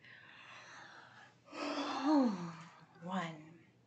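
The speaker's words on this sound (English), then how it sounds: "Another way to settle our bodies is to try to yawn a few times." A person yawns a couple of times, with a long drawn-out breathy yawn followed by a shorter one, close and fairly loud in a quiet room.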